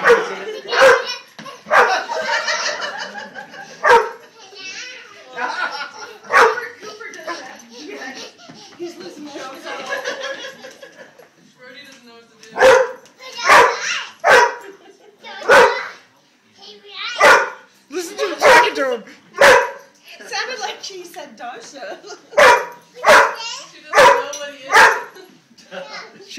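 A puppy barks in sharp, repeated yaps, close and loud, coming in bursts throughout with short gaps, while people talk and laugh around it.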